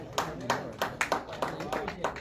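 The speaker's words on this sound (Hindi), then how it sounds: "जोरदार तालियां दोस्त बजाते रहे।" Scattered hand claps from an audience at a cricket committee award function in Azamgarh, arriving in a loose, uneven rhythm over a short stretch with some talk mixed in.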